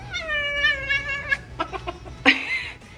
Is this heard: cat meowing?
yes